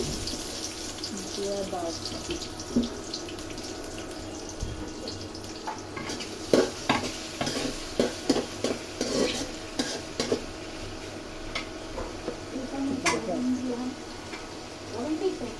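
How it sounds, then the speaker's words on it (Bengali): Onions frying in oil for liver curry, with a steady sizzle and repeated scraping and clinks from stirring in the pan, some louder knocks mid-way; a voice talks intermittently over the cooking. "কলিজা ভুনা করব পরিমাণ মতন পেঁয়াজ দিলাম পরিমাণ মতন তেল দিলাম"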